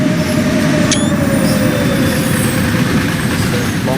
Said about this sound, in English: the long-awaited freight train